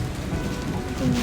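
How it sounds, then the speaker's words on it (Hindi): Steady rain pours on a stormy night, with a low rumble of thunder swelling toward the end; no voices, the downpour close and continuous. "उस रात भी ऐसे ही कड़कती बिजलियों के साथ बरसात हो रही थी।"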